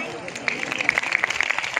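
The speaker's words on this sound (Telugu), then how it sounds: "గట్టిగా చప్పట్లు కొడతారా?" An audience claps on request in a church gathering, a dense patter of many hands heard fairly close, steady and lively though brief, with a voice over the clapping.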